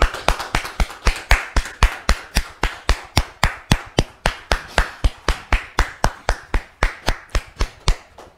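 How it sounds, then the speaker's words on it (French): A studio audience on a French television talk show claps in steady unison, about three sharp claps per second, loud and close throughout with no voices. "Merci de le recevoir sous vos applaudissements."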